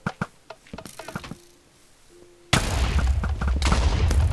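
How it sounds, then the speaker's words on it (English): TNT cannon fire in the game Project Ares, a sudden loud, dense blast of booming gunfire-like explosions that erupts midway after sparse clicks and continues as sustained rumbling barrage. "Holy crap, you guys have an efficient TNT cannon already."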